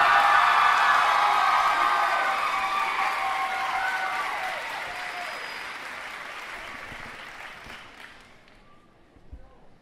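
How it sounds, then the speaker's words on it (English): Graduates at The Excel Center's spring 2014 ceremony applaud their staff members: a dense, loud round of clapping that opens strong and gradually thins and fades over about ten seconds. "I want you to applaud these staff members who helped get you across the stage"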